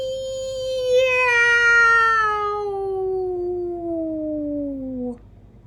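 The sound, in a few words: cat meowing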